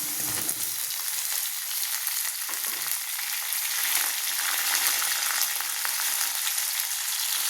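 Onions, radish and eggplant sautéing in a pan for a soya and radish curry, a continuous loud sizzle with occasional stirring scrapes, steady and close throughout with no voices.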